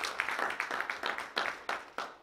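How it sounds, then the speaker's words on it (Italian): Soft, sparse applause from a small audience at an Italian book presentation, distinct individual claps in an uneven rhythm, fairly faint and close, with no voices. "farei io un applauso a lei per"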